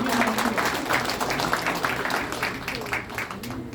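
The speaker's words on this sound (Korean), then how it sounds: "다시 한번 큰 박수 부탁드리겠습니다." Audience applause at a congratulatory address during a candidates' meeting in the National Assembly Constitutional Society hall, a steady wash of clapping throughout with voices mixed in.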